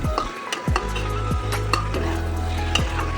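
Soaked masoor dal and chickpeas fry in a pan with a loud, close sizzle, punctuated by several sharp scrapes and knocks of a spoon against the pan.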